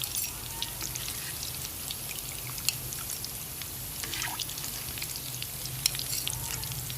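Samosas frying in hot oil, a steady close hiss and crackle with scattered small pops throughout.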